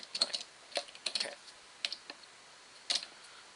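Computer keyboard typing: sparse, quiet clicks and short bursts of keystrokes, close and fairly soft, with irregular gaps between presses.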